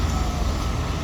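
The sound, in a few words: emergency vehicle sirens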